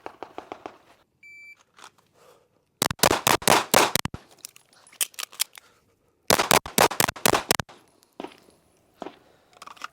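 A pistol rapid-fires at a shooting range drill in two quick strings of about eight sharp, loud shots each, separated by a short pause for a reload, with a brief electronic timer beep before the first string.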